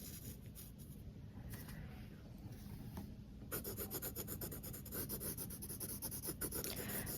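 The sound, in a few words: pencil side edge shading on paper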